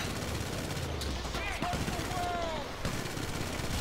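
Gunfire from shooting gang members in GTA 5, steady rapid shots layered with a busy game soundscape and sirens, with someone talking over it.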